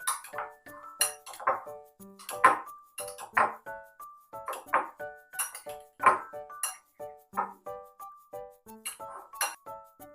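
Fruit chaat being mixed in a bowl, with bright, repeated clinks of a spoon against the dish in an irregular rhythm, close and clear with no talk.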